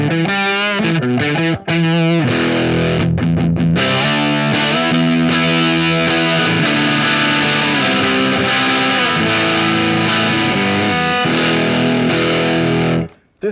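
Distorted electric guitar plays loud, dense chords and sustained notes for over thirteen seconds, with a couple of brief choppy breaks near the start and a sharp stop at the end.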